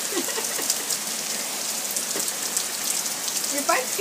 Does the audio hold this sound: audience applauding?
no